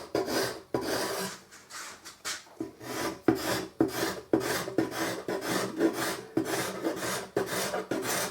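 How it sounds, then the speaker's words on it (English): Cabinet scraper drawn by hand across the wooden body of a bass guitar, giving a series of short, close rasping strokes in steady rhythm with brief pauses between passes. "I'll just gently do it because it's not a lot. Just with the cabinet scraper"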